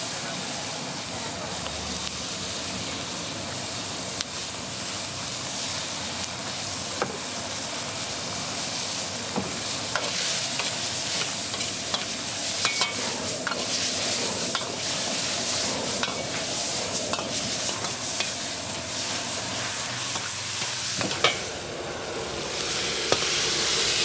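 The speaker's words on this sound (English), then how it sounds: "this is the stir-fried Chinese kale with crispy pork belly" Chinese kale, crispy pork belly and chilies stir-fried over a roaring flame at a Thai street food stall, a loud, continuous sizzle with scraping and clanking from the wok throughout.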